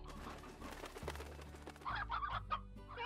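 Briar hens cluck in the Slime Rancher video game, several short repeated clucks mixed over busy game music and effects, moderately loud with no talking.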